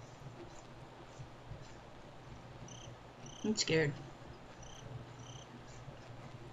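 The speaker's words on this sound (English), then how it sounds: "Crickets." Crickets chirp steadily in the quiet ambient soundscape of the Slender: The Arrival beta horror game, a faint continuous bed of insect trills, briefly interrupted midway by a short spoken line.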